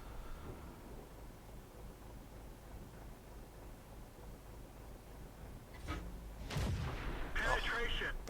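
World of Tanks battle with an SU-100M1 tier 7 tank destroyer: low rumbling gameplay ambience followed by a loud, booming tank gun blast and a sharp ringing impact from a shell striking armour.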